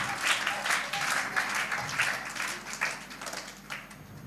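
A church congregation claps enthusiastically at a birthday remembrance celebration, a dense, continuous round of applause filling the whole stretch.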